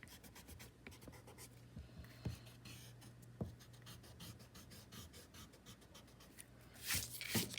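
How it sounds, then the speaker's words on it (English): Pencil or eraser rubbing across paper while tidying stray lines on a traced winter landscape drawing, a soft continuous scratchy friction with short strokes and a steady low hum underneath, a louder brushing burst near the end. "I have a few extra pencil lines that I need to get rid of, so I will carefully remove those."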